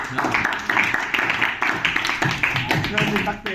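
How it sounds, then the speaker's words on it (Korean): Audience members clap after a team's presentation at a student speech contest, a scattered run of claps mixed with voices talking over them. "박수 주세요."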